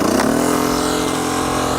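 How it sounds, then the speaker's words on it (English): A 72V electric motorcycle riding along, giving a smooth, steady high-pitched motor whine that climbs slightly in pitch and then holds over a constant rush of wind and road noise. "You gotta love that peaceful quietness of an electric motorcycle"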